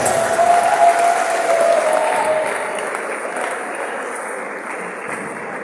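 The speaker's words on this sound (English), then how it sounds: "with a great ovation and a loud clap" Audience applause greeting a professor at a clinical sciences faculty lecture, dense steady clapping from a full hall that fades slightly but continues throughout, with no talking.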